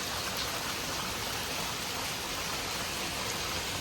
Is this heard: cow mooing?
no